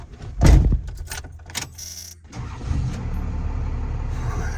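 A first-generation Cummins diesel pickup truck has its keys jangle, the starter cranks briefly, and the engine catches into a steady, fairly quiet, close idle rumble.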